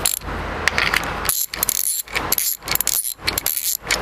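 Bolts being worked down into bearing plates on a blower, giving a close, loud run of ratcheting clicks in quick bursts separated by short pauses.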